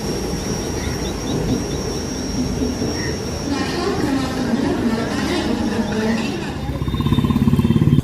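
A Mumbai Harbour line local train from CST toward Cotton Green station gives a steady loud rumble heard from inside the carriage, with a thin high whine early on and rhythmic rail clatter building near the end.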